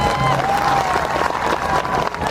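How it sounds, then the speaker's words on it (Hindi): A stage comedy and dance show audience in Chhattisgarh bursts into loud, sustained applause, with dense clapping and some crowd noise filling the whole moment close up. "तो एक बार छत्तीसगढ़ महतारी के लिए जोरदार ताली जरूर बजाओ।"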